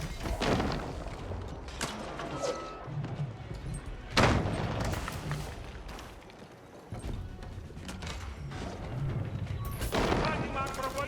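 Mangonel siege engines firing during an Age of Empires 4 battle between English and Byzantine armies: a string of booming thuds and sharp impacts over a busy clatter of combat, with a commentator talking throughout.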